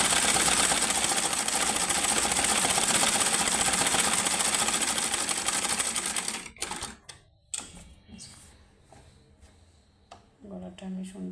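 Sewing machine running steadily and loud for about six seconds, stitching soft fabric at the neckline of a skirt-fabric fatua, then stopping; handling noises and faint talk follow.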